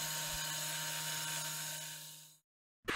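An angle grinder cuts a first straight slot into a wooden board for a bed build in a VW T3 camper van. It gives a high, steady whining drone that stops abruptly, followed by a short silence and a brief burst at the end.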